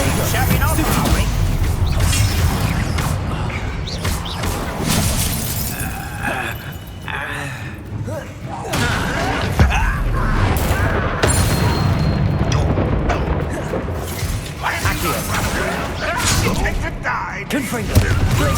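Confringo and Glacius spell blasts in Hogwarts Legacy burst repeatedly as booming impacts, shattering crashes and whooshes, loud and close amid busy combat noise, with game voices speaking in between.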